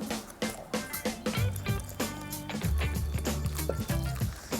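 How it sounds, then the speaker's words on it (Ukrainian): Water is poured slowly into a bowl of dumpling dough, giving a series of close, quiet liquid splashes and gurgles, broken and uneven, with dripping between pours. "І поволі я вливаю сюди воду."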